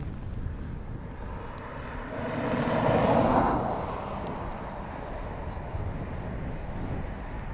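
Swiss Airbus A320neo passing at Dublin Airport, a broad jet roar swelling from a steady windy background to a peak around the middle and then fading back under constant wind rumble.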